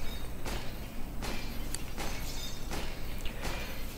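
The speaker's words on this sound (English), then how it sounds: "here is the video of 3-Click Phillips showcasing new glass shattering effect" Glass shattering effect from the video game Counter-Strike 2, with about five loud, crisp breaking bursts spaced roughly evenly over a dense, continuous crunchy background.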